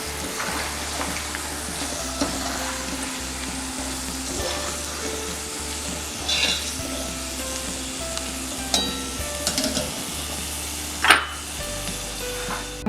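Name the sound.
peanuts frying in oil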